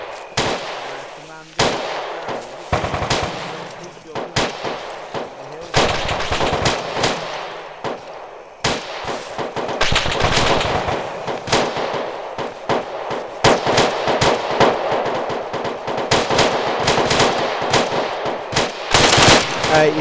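Video game machine gun fire rattles in repeated bursts throughout, sharp volleys of automatic gunfire close and loud, with scattered single shots and brief pauses between strings.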